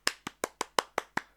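Seven evenly spaced hand claps, crisp and close, each one sharp with a short decay, in a steady rhythm and with no voices.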